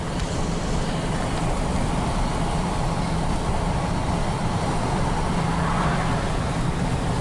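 Chevy Silverado pickup with a transmission cooling fault and an aftermarket cooler, heard from inside on a road drive, a steady dense rumble of engine and road noise throughout with no talk.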